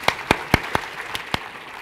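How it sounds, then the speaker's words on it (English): Sparse, scattered claps from a small audience at a medical school event, six or so distinct hand claps spread unevenly over a couple of seconds, fairly faint with no voices. "Get a round of applause for our esteemed leaders here"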